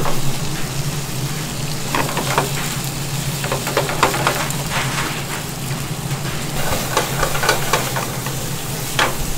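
Miso ginger pork cooking over a high flame at a miso restaurant in Shuri, Okinawa: a dense, close sizzle with bursts of scraping and clattering as the meat is stirred, with no talking.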